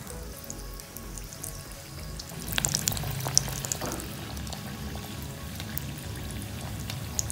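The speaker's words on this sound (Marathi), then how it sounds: "तेलात आपलं तापलेलं आहे, आपण त्या तेलामध्ये हे सोडायचं" Biscuit cutlets coated in breadcrumbs dropped into hot oil, a faint, even crackling fry that swells briefly as they go in and then settles into a steady bubbling hiss.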